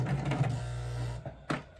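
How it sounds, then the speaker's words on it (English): A sewing machine runs steadily while stitching a crocheted scrunchie band, a low whirring mechanical hum lasting about a second, then stopping, followed by a brief knock, quiet and close. "I'm gonna try to use my sewing machine to sew together this scrunchy band thing."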